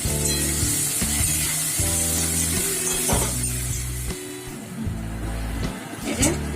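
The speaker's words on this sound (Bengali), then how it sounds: "তেলের মধ্যে একটু লাল করে ভাজবো" Kalai dal frying in hot oil for a vegetarian dish, a steady loud sizzle with crackling spatters running throughout, close and uninterrupted.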